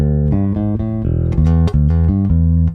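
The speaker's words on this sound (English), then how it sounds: "Here's the neck pickup sounds like this." Electric guitar on the neck pickup with a touch of chorus, a short run of clean, warm, sustained single notes and chords played up close, alone.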